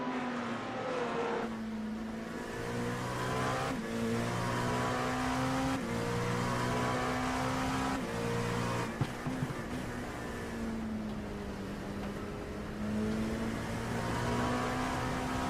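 Race car engines from a GT3 multiclass race at Watkins Glen in a racing game drone steadily, with tonal revs rising and dropping through gear shifts for about fifteen seconds, continuous and fairly quiet with no talk.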